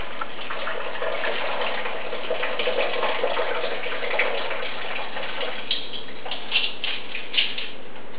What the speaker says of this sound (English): See, the water's fairly clear, and I'll wash it a few more times.